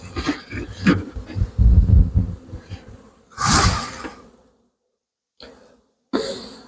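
Honey bees buzz close around new hive nucs, loud in bursts with gaps, mixed with handling noises and a brief snort or throat sound.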